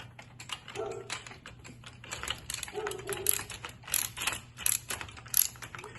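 A socket ratchet tightens bolts fastening wheel spacers on a LEADALLWAY 2040H platform truck, giving quick runs of close mechanical clicking in short bursts against a steady low background hum.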